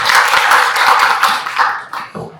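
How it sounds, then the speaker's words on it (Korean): An audience at a rural depopulation policy forum gives a short round of applause, dense clapping that thins out and fades after about two seconds. "박수로 맞이해주시기"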